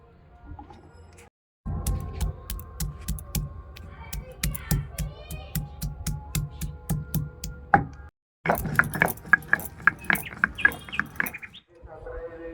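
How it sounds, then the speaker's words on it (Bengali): Ginger and onion being ground by hand on a stone sil-nora slab, a steady rhythmic series of scraping, knocking strokes, close and fairly loud, with a brief pause partway through. "এখানে আদা আর পেঁয়াজটা বেটে নেব শিলনোড়াতে"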